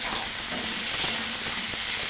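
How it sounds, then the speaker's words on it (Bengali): Potatoes and pointed gourd fry together in hot oil, giving a steady, close, even hiss with faint crackle and no voices. "এই পটলের সাথে আলুগুলোকেও সুন্দর করে ভাজা করে নিচ্ছি।"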